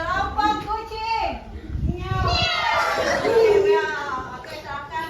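Children in a classroom group activity imitate cat meows, several young voices overlapping in rising and falling mews that carry on steadily for about five seconds.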